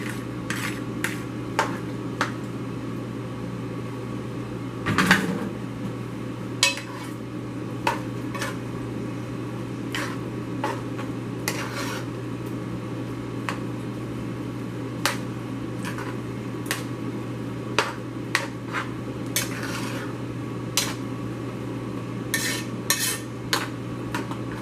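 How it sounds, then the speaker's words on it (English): A spoon stirring macaroni noodles with Velveeta cheese, butter and milk in a pot, giving repeated sharp metal clinks and scrapes at an irregular rhythm over a steady low kitchen hum, close and alone with no talk. "I just like to mix it, my cheeses in with it."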